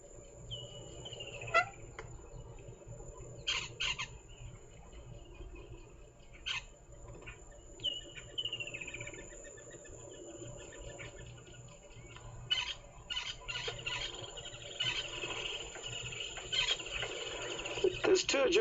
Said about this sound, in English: There's 2 Egyptian geese in this dam